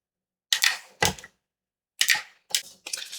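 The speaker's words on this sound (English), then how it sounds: "I'll put 3 staples in here." A desktop stapler punching staples through folded paper while assembling a flip-down flip book, five sharp crunching clacks in two quick pairs plus a final one, close and loud with silence between.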